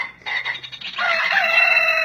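A children's cloth sound book plays a short electronic rooster crow, thin and bright, loud and close, lasting about two seconds with no voices.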